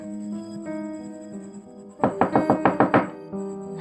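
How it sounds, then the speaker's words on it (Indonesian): Loud knocking on a bedroom door: a quick run of about seven sharp raps in a steady rhythm, close and forceful, rising over a sustained musical background. "dikagetkan dengan ketukan pintu kamar yang lumayan kerasnya"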